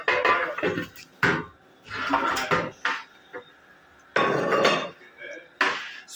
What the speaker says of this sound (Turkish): Sufrelerimizi özenle diziyoruz.